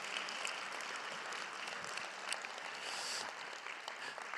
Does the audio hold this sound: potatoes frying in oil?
no